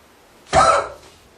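A single harsh cough bursts out close up, followed by a brief fading rasp, with quiet before and after.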